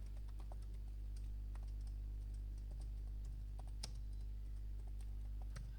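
Keys clatter on a computer keyboard in quick, irregular bursts of clicks over a steady low electrical hum, fairly faint and with no talking, while code is entered in Python.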